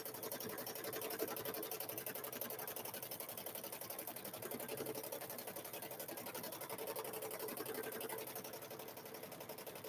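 Sewing machine steadily stitching a quilted Grinch handbag, a continuous close mechanical whir and rapid needle rhythm holding throughout without pause.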